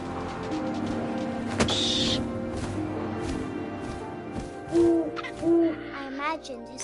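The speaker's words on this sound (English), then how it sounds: "Suddenly, I was an owl." An owl hoots twice in the video game What Remains of Edith Finch, two low rounded calls rising over a steady layer of wind and ambient game sound.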